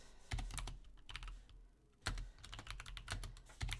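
Computer keyboard keys clatter in quick irregular bursts, close and fairly quiet, with a brief pause before typing resumes.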